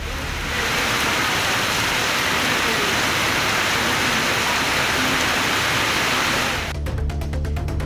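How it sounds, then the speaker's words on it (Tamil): A heavy downpour roars loudly and continuously during a thunderstorm in coastal Tamil Nadu, a dense unbroken wash lasting nearly seven seconds before it cuts off abruptly. "இடி மின்னலுடன் கனமழை கொட்டி தீர்த்தது"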